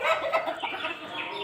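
Black country chickens on a small home poultry farm cluck nearby in quick, overlapping bursts, a close flurry of short hen calls with no talking.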